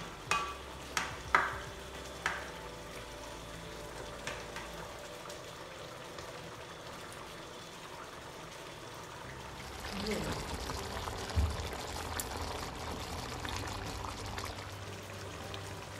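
Milk is stirred in a pot for about five minutes as it heats toward a boil, with soft bubbling, a few light clinks early on, and a steady low simmer.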